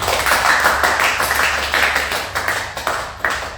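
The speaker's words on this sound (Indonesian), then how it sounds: "Beri tepuk tangan sekali lagi untuk Kak Sonya." Sustained audience applause, many hands clapping steadily and fairly loud, with a few sharper claps near the end.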